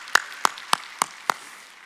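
Five sharp, evenly spaced claps ring out in a church service, each a crisp single hit with a short decay, fairly close and clear against a quiet background.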